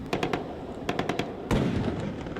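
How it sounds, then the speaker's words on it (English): Bursts of simulated gunfire crackle in rapid clusters during a naval exercise at Mayport, with several quick volleys and a heavier blast near the end, at a moderate distance with steady background noise. "all hands on deck as simulation gunfire erupted"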